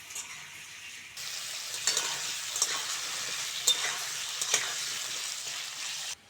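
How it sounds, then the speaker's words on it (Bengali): Papaya and potato fry in hot oil, a bright close sizzle that jumps up after a quiet start, with a few sharp stirring scrapes and clicks, then cuts off at the end. "পেঁপে আর আলুটা ভালো করে ভেজে নিতে হবে"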